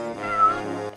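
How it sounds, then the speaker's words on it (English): A cartoon cat meows in the pirate point-and-click adventure game Nelly Cootalot, one drawn-out, clear meow sounding alone and close. "A kitty!"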